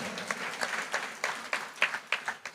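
Church congregation clapping in a steady rhythmic beat, about nine claps a couple of seconds apart, heard at moderate distance in a reverberant hall.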